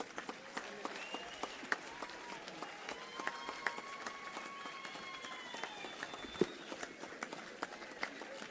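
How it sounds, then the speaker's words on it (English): Steady applause from a crowd at a parliamentary opening ceremony in Gauteng, many hands clapping continuously at a moderate distance, with a few sharper claps standing out and faint voices underneath. "Let's give Umam Thandi one round of applause."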